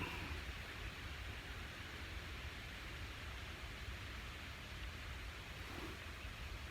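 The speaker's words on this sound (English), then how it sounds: "I hear the wind whipping up." Wind whips up outdoors at night, a constant broadband rushing roar with a low rumble that holds steady throughout.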